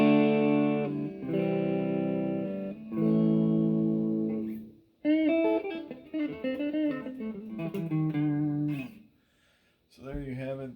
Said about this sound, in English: And then here's what the neck pickup sounds like.